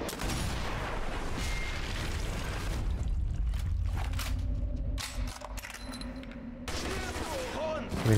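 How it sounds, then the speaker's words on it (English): Gunfire in the video game Sniper Elite V2 Remastered, with repeated shots and booms over a steady loud battle din and short bursts across the clip, while a player talks over it. "Where's the shooting coming from down there?"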